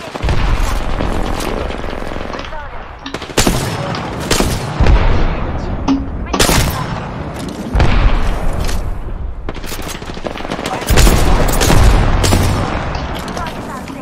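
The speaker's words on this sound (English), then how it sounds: "Somebody shooting at them." Video game gunfire in a frantic online match, with repeated bursts and booming shots that crackle loud and close, coming in clustered volleys across the whole stretch while players shout and talk over it.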